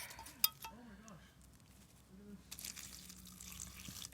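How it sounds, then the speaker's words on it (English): Indian pipe plants drop into a glass mason jar with water: a sharp glassy clink followed by soft sloshing and splashing, faint and close, with a quiet voice briefly heard. "throw the nest into a mason jar in here with some water."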